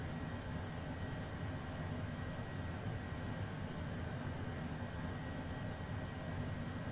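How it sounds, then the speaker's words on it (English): A continuous, even mechanical drone of an aircraft APU generator in Microsoft Flight Simulator 2020 runs at moderate level, steady and unchanging throughout. "can you hear the plane engine? Or the APU generator, rather?"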